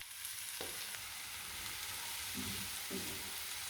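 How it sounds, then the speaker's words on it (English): Chopped leeks frying gently in hot oil in a pan give a steady soft sizzle throughout, with a couple of brief clinks or stirring knocks; no one speaks. "Once the oil is heated up, add in the chopped leeks and cook gently until they soften"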